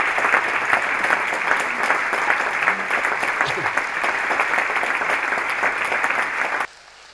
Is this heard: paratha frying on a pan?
no